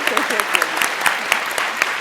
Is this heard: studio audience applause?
yes